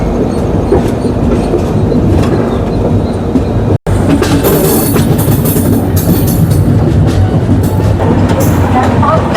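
Passenger train on the Kolkata to Chennai route running on its rails, a loud continuous rumble with rhythmic clatter and occasional squeals from inside the carriage, briefly cut off once near the middle.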